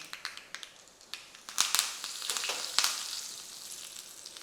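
Curry leaves hit hot oil already crackling with mustard seeds and asafoetida, a tempering for Udupi-style idli chutney. A close, bright sizzle breaks into sharp pops and spits, growing louder and busier midway, with no talking.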